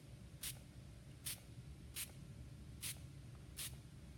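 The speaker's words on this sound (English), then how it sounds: "I'm going to spray down on it." Ink misted from a spray bottle onto a T-shirt: five short, evenly spaced hissing bursts, faint and close, over a low background hum.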